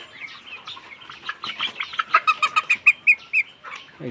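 Backyard chickens, some sick with fowl pox, cluck and chirp close by, with a loud run of evenly spaced rhythmic clucks in the middle among scattered calls.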